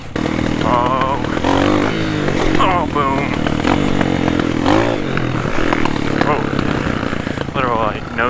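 Dirt bike engine droning steadily throughout a morning trail ride, loud and close with shifting revs, while people talk over it.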